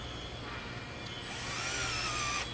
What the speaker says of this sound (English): gently tighten them with the electric drill till they're tight